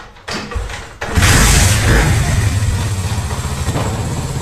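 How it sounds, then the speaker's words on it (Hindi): A Honda CD 70 motorcycle with no battery fitted kicks into life after a brief silence, then settles into a loud, steady close-up idle with a fast pulsing beat. "तो पहले हम बाइक को स्टार्ट करते हैं।"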